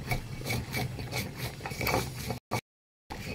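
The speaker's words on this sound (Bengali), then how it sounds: "তার এই মধ্যে একটু গোলমরিচ দিয়ে বেটে নেব" Spice paste with black pepper being ground by hand on a stone, rhythmic rough rubbing strokes close by, broken by a short silence near the end.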